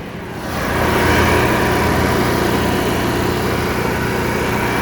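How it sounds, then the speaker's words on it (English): The LP generator on a 2013 Forest River Solera 24R RV starts up and runs with a steady high-pitched engine drone, loud and close, holding constant for several seconds without any voices. "Next up is your generator."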